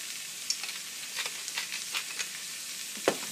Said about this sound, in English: you want to gently saute that for about 3 to 4 minutes until the zucchini get softened